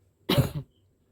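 A single short, harsh cough, close and fairly loud, in an otherwise quiet setting.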